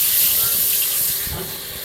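Pumpkin slices dropped into hot oil in a wok, producing a broad, loud hiss that gradually eases over a couple of seconds.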